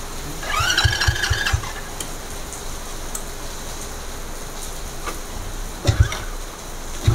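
A cold Honda C70 Super Cub motorcycle engine is kick-started and fails to catch, giving a short burst of mechanical churning with a rising whine, then quiet, then another brief clunk near the end, heard alone.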